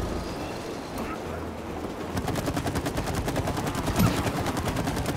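Rapid automatic gunfire in the co-op video game It Takes Two rattles continuously for several seconds at a fast, even rhythm, loud and up front over a low game background hum.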